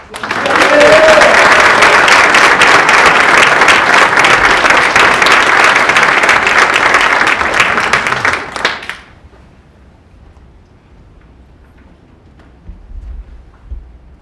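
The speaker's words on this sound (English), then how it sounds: "give a big round of applause" A crowd applauds loudly at an apprenticeship signing ceremony held at a company, with thick, steady clapping for around nine seconds before it cuts off into near quiet, and a faint low sound follows near the end.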